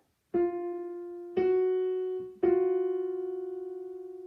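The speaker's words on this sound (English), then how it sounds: "That sound is our minor second." A keyboard plays three close-pitched notes one after another, each ringing clearly, with the last held and slowly decaying; no voices.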